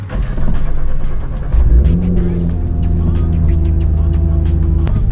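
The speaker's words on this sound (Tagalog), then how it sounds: "Test natin itong GTR sa highway bago i-release." A Nissan GT-R R35, tuned for over 800 wheel horsepower on its stock engine and transmission, revs hard on a late-night highway test drive, a loud steady engine roar that climbs in pitch and holds under constant road noise.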